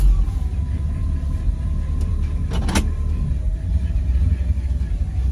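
A bagged 1960 Eureka Cadillac hearse with a Jetaway automatic transmission drives along, its engine and road noise making a steady low rumble throughout, with a brief whirring click partway through.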